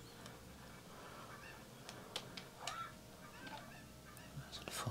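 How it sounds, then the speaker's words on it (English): Cucco chickens cluck and honk in Kakariko Village in the video game Zelda: Ocarina of Time, scattered short calls over a steady game background with no talking. "First thing we're going to do is round up some"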